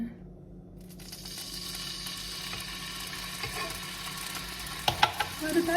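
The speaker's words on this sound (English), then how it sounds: "Garlic is in. Letting it brown." Garlic sizzles and fries in a pan for a stir fry, a steady, close crackle with a few sharper pops and stirring scrapes toward the end.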